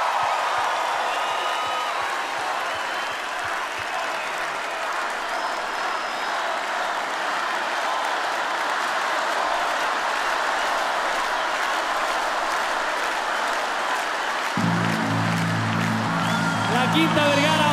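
The Quinta Vergara crowd at the Viña del Mar festival applauds with sustained, dense clapping and scattered cheers, while an announcer talks over it and a band starts up near the end.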